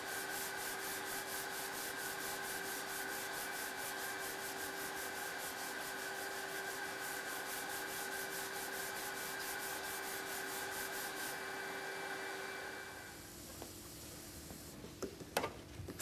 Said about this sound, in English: The damaged area is now sanded with P180 sheets to refine the finish.